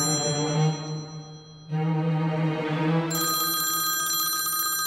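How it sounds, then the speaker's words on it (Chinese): A telephone rings loudly and continuously with a bright, tonal ringtone that dips briefly, then swells and shifts to a higher, chiming pattern, with no voices over it. "这扒皮哥给你打电话了呀，你没看到吗"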